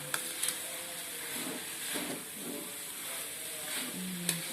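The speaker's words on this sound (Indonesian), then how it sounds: "Tempe yang tadi dipotong kecil-kecil masukkan. Diaduk-aduk sampai merata." Chopped tempeh being stirred in a hot pan for Indonesian botok, giving a steady soft sizzle and frying hiss with scraping strokes of the spatula, close and moderately quiet, no voice present.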